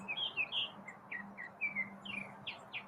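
A pet bird chirps and sings indoors, a quick series of bright, short tweets and whistled notes in irregular bursts over a low steady hum.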